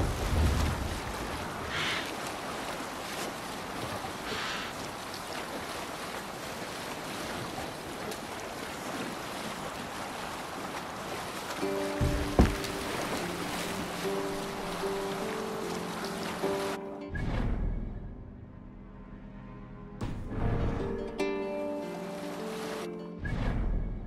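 A Viking longship under sail in Assassin's Creed Valhalla pushes through ocean waves, with steady wind and surf rushing throughout and a musical score rising in the later part.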